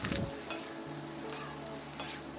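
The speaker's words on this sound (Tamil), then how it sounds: "இப்போ நம்ம எண்ணெயில் பொறிச்சு எடுத்துக்கலாம்" Dried cluster bean vathal fries in oil, a soft, brief sizzle with a couple of stirring scrapes and faint clinks of a pan and utensil.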